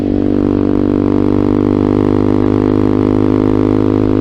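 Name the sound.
Vader ZS190 Honda Grom clone motorcycle riding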